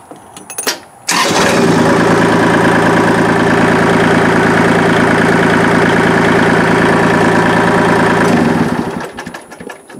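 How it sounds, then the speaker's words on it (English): A three-cylinder diesel tractor engine cranks and catches after about a second, then runs at a loud, steady, lumpy idle close by before shutting down and fading out. "It sounds a lot different than my other one, because it's a 3-cylinder diesel."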